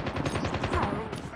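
Rapid automatic gunfire from the video game Call of Duty Mobile rattles in quick bursts, dense and close over game sounds.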